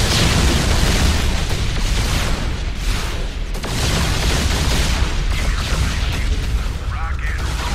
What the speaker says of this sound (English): A popular choice is the Yamato cannon, which does significant damage to single enemy targets.